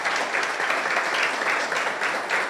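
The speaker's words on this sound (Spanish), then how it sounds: "Un aplauso para ellos" Audience applause after a talk on urban planning for health, steady dense clapping with a slightly pulsing rhythm, continuous and fairly loud.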